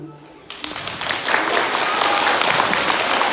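Applause from an audience at a school evening honoring Shevchenko, starting after a brief quiet moment and swelling into steady, sustained clapping that stays loud to the end.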